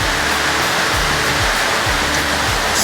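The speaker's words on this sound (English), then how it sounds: "Sounds like a roaring waterfall, but that's just because of the river." A river rushes steadily in a canyon, a dense continuous roar like a waterfall, loud and unbroken with no voices.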